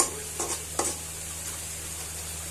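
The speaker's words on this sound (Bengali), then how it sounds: "আজকে হাঁসের মাংস রান্না করানো হচ্ছে" Duck meat cooking in a pan for curry, a steady close sizzle with two brief stirring scrapes near the start.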